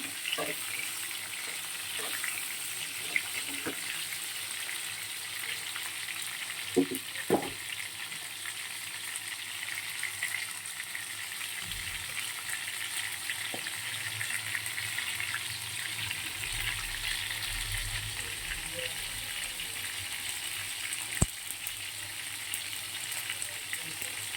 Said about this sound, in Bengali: পটলটা খুব ভালো করে ভেজে নেব